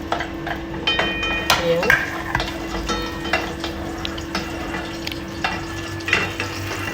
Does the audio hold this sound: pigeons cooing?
no